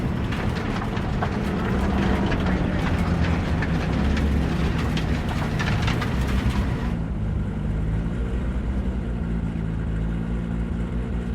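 Train rolling along in the video game Cyberpunk 2077, a steady loud rumble with clattering wheel noise that thins out partway through into a smoother hum, with no talking.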